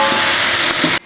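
Ginger and garlic sautéing in hot oil for a large Chennai-style basmati biryani, producing a loud, close, steady sizzle and hiss that cuts off abruptly just before the end.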